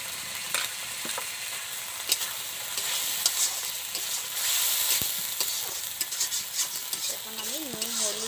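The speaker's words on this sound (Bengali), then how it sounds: "হলুদ দিয়ে টমেটোটা মশলার সাথে ভালোভাবে কষে নেবো" Tomato cooks in a hot pan with salt, turmeric and spices for a small fish curry, a steady sizzle broken by repeated sharp scrapes and knocks of a stirring spoon against the pan.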